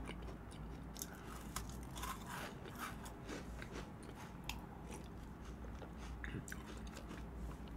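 A crunchy sweet dessert snack is bitten and chewed up close in a continuous run of crisp crackling crunches, with steady mouth noise throughout the clip and no talking.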